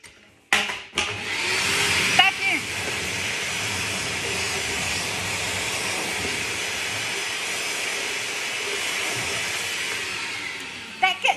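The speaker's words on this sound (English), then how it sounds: "Grab your vacuum cleaner." A vacuum cleaner sucks glass shards off a table after tile nipping. A loud, steady roaring whoosh starts with a clatter and runs unbroken for about ten seconds, with brief rattles of debris near the start.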